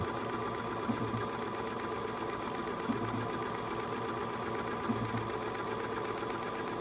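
Bernina 535 sewing machine stitching tight back-and-forth stitches, a steady, close mechanical whir with a faint rhythmic knock roughly every two seconds and no talking.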